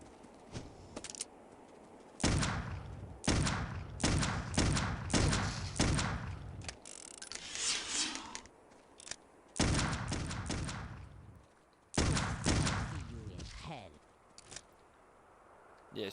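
Bursts of enemy gunfire in the horror shooter Clive Barker's Undying, loud clustered volleys of shots repeating through the scene with brief gaps, a player talking between and over them.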